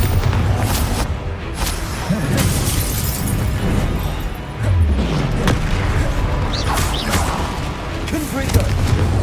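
Blasting-spell explosions from the Hogwarts Legacy video game fill a busy combat scene with repeated loud booms, crashes and shattering bursts layered over a constant rumble, and brief vocal sounds mixed in.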